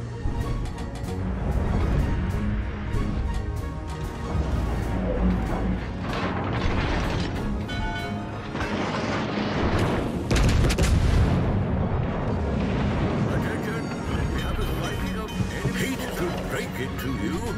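Battleship gunfire in World of Warships: Legends, dense booming salvos and mechanical clatter rolling continuously under game voice callouts.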